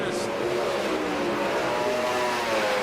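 Super late model race car engines in a racing video game drone loudly and continuously, with layered high engine tones blending as several cars run together.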